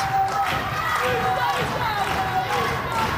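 A wrestling crowd at the FWA Academy Supershow cheers and shouts for Dan Head as he fights back. The roar is dense, loud and sustained, with a commentator talking over it.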